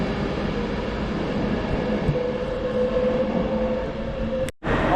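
A train pulls away from a station platform, bound for Glasgow Central, with a steady loud rumble and a faint tonal hum throughout, then a sudden brief dropout near the end.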